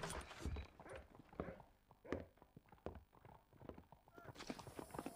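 Horse hooves clip-clopping in Red Dead Redemption, a quiet, uneven run of soft thuds over scattered background noise, faint overall.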